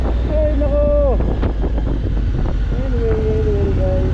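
Wind roars into the microphone of a rider on an Africa Twin motorcycle crossing rough terrain, a loud continuous low buffeting, with a voice talking over it.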